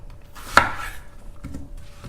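Kitchen knife chopping onion on a cutting board while cooking Korean spicy braised chicken: one sharp knock, then two softer taps, alone without talk.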